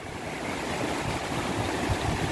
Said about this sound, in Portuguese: E a Cachoeira Santa Luzia em Viçosa, Alagoas.